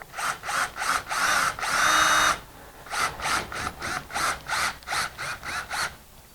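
A power drill drives screws into a plaster ceiling in short whirring bursts, one longer sustained run followed by a rapid series of brief pulses, close and loud, with no talking.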